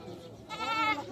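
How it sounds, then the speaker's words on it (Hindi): A goat bleats at a livestock market at Palatniya Chowk. It gives one loud, wavering bleat in the second half of the moment, close by, over a murmur of crowd noise. "बकरी है ये।"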